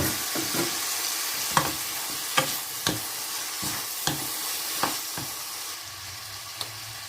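Crispy pork belly being stir-fried with bell peppers and sauce in a pan, a steady sizzle broken by about a dozen sharp, irregular clanks and scrapes of a utensil tossing the food, close and without talk.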